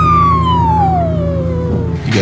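A small-town siren sounds before a high school football game, its loud, close wail sliding steadily downward in pitch as it winds down, then picking up briefly again at the end.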